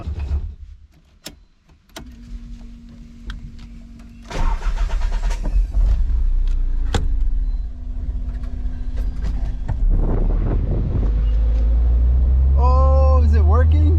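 A Nissan 300ZX with a swapped KA24DE engine gives a few clicks and a crank, then fires up loud and close. It settles into a steady running drone that builds and rises in pitch as it pulls away.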